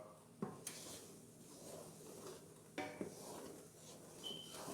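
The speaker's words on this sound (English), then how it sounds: "And I'm continuing to stir." A spoon stirs homemade New Orleans praline candy in a pot on the stove, giving quiet scraping and rubbing with a few sharp clinks against the metal, close and faint.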